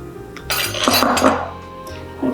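Souffle pancake batter folded with whipped egg whites in a bowl, a utensil clinking and scraping against the bowl in a few close strokes with no talk.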